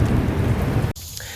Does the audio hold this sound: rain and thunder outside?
yes